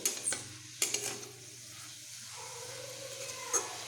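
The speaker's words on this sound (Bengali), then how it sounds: "এবার আমি আরও একটু ভালোভাবে ভেজে নেব" Radish greens sizzle softly in a pan while a spatula scrapes and stirs, with a few sharp clinks against the metal.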